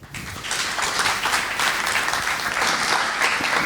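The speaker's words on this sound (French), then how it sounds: "je vous demandais de l'applaudir" An audience in an amphitheatre at a launch event in Lille breaks into dense, sustained applause, close and steady from start to finish, with no speech over it.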